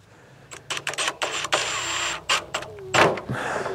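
A power drill drives screws into a wooden split board built for coyote hunting, with short bursts of whirring and a rising whine as each screw seats, separated by brief pauses, close up.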